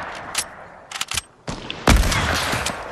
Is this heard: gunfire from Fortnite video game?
yes